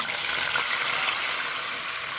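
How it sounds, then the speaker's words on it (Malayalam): Water is poured into a hot pan after raisins were fried in ghee, a loud continuous rushing gush with hissing that fills the short moment. "മുന്തിരി മാറ്റിയതിന് ശേഷം അതിലേക്ക് വെള്ളം ഒഴിക്കാം"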